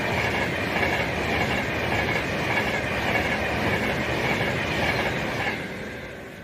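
Avanti West Coast train 9A48 passes through Stechford on the West Coast Main Line on a diversion, a loud continuous roar of wheels and rail noise with faint clickety-clack that tapers off at the end.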